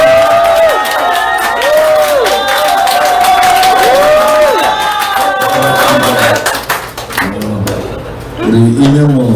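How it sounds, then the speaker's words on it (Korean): An audience at a party members' education event gives applause and cheering for the party leader; clapping and crowd noise swell behind loud warbling music tones, with shouts rising toward the end. "박수 한번 부탁드립니다."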